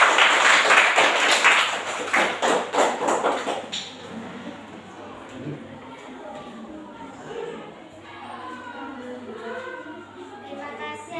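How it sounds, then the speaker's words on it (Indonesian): Audience applause for a participant named Ella at an academic supervision coaching session, a dense burst of clapping for the first few seconds that stops abruptly, followed by quieter room noise and faint talk. "Kita beri tepuk tangan untuk Ella."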